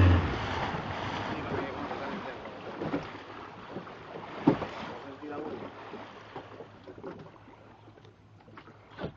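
Motorboat on open water with wind and splashing waves, a low steady hum under the water noise that fades toward the end, with people talking throughout.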